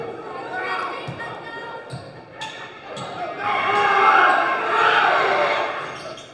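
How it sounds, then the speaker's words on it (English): Crowd in a gym at a girls' high school basketball playoff game during a free throw, with a few ball bounces on the hardwood, then a loud swelling roar of jeering voices. "The crowd is trying to throw her off her game here."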